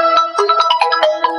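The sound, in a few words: phone ringtone ringing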